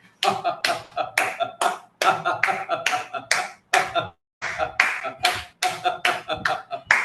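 A conference audience claps in rhythmic bursts of sharp hand slaps, loud and near, pausing briefly between rounds.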